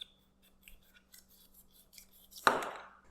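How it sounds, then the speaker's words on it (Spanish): A knife cuts the peel off a sugar cane, working close to the skin, with faint scraping at first and then one sharp, loud stripping cut that fades away. The sound is close and there is no talking. "se van a ir lo más pegadito a la cáscara que puedan hacia abajo"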